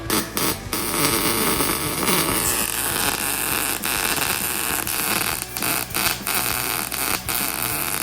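MIG welding with an Arccaptian Mig 200 welder: a dense, steady crackling buzz that runs almost the whole time, near and loud, with a few brief breaks in the arc.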